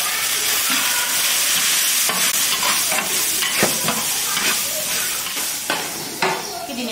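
Pork, star anise, scallion and ginger frying in a big iron wok: a steady, loud sizzle with a bright hiss, broken by scraping stirs and metal clinks, close up.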